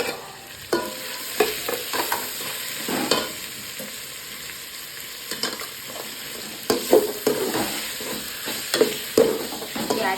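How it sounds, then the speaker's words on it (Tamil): Tomatoes with rock salt sauté in a pan, stirred in irregular scraping strokes over a soft background sizzle, close and fairly loud with no voices. "தக்காளி சேர்த்ததுக்கப்புறம் கல் உப்பு போட்டு நம்ம வதக்கும் போது சீக்கிரம் தக்காளி வதங்கிடும்."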